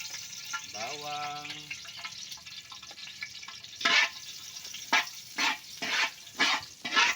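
Garlic frying in a pan for laing, with a soft sizzle and several louder hissing bursts as it is stirred, near and moderately loud.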